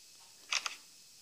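A Galaxy S7 Edge running Android 7.0 Nougat fires its camera shutter, giving a quick, crisp double click close up against quiet background hiss.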